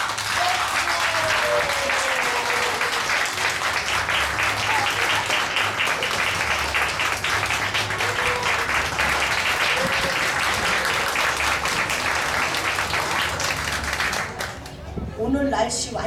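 Sustained, loud audience applause and clapping from an outdoor crowd after a pansori performance of Chunhyangga at the 89th Namwon Chunhyang Festival, steady throughout with a voice briefly at the end.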